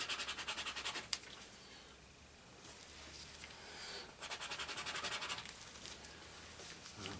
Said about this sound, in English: So I'm going to have to rub that out.